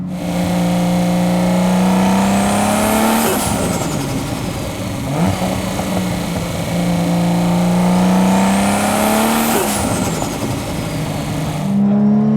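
A nearby Nissan Skyline R33 RB26 engine revs hard twice, each rise climbing to a high scream then dropping back to a rumbling idle, loud and unaccompanied by speech.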